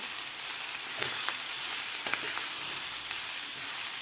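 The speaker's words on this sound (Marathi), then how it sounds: "हे दोन मिनिट हे मेथी आपल्याला खालच्या मसाल्यामध्ये परतून घ्यायची आहे" Fenugreek leaves sautéing in masala over a medium flame give a close, steady sizzle and hiss with occasional soft clicks of a stirring spoon.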